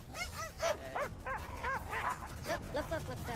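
Poodles bark in a rapid string of short, sharp yips at another dog walking past, the barks coming in quick bursts at moderate distance.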